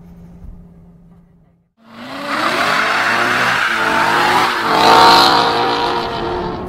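A 2016 Chevy Corvette Z06 launches hard, its engine roaring loud and close as the tires spin, the revs climbing steadily for several seconds after a brief quiet idle.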